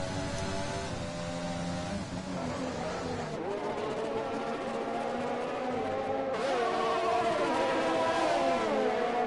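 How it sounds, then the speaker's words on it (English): A McLaren race car's engine whines steadily in a racing video game at an Australian circuit, its pitch rising and falling through gear changes, loud and continuous over the whole stretch. "The sound of that McLaren is very annoying"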